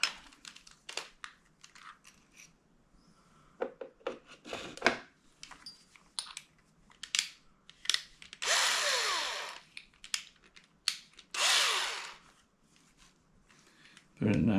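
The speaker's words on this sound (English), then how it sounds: "let's take this bigger drill bit" A power drill fitted with a larger bit whirs in two strong bursts of a second or so each, close by, between stretches of talk, clicks and tool clatter.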